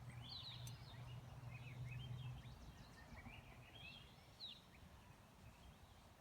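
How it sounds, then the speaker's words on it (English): Wild birds sing in spring, scattered high chirps and short song phrases heard faint and distant over a low outdoor hum, with no one talking. "the whole reason I'm doing this is to listen to the birds"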